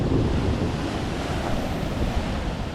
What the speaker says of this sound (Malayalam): അത്യാവശ്യം നല്ല രീതിയിൽ തന്നെ കയറുന്നുണ്ട് കേട്ടോ കടൽ